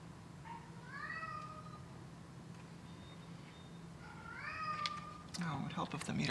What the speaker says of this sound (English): Hey Tuco, I hear you. I hear you a lot, little cat.